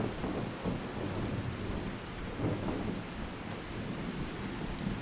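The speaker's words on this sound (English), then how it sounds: "Good old thunderstorm to start off the journey." Steady rain with low, rolling thunder during a thunderstorm in the video game Fallout 4, a constant even wash of downpour that continues throughout with no talking.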